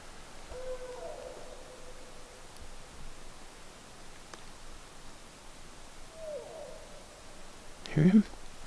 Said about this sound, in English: He's communicating with the other owl across the way.